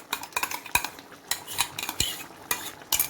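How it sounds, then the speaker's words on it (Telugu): Prawn curry with a cashew-coconut paste being stirred and fried, a metal spoon clinking and scraping against the pan in an irregular rhythm of close, sharp knocks over a faint sizzle, with no talking. "వేసి బాగా కలుపుకొని ఒక 2 నిమిషాలు ఇట్లా వేయించుకోవాలి"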